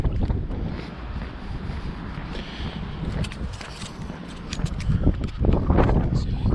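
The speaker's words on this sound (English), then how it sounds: "I think the wind's behind me now as well." Heavy wind buffets the microphone in a constant roar and rumble while a runner heads downhill on Sheffield trails. It is loud and close and swells stronger toward the end.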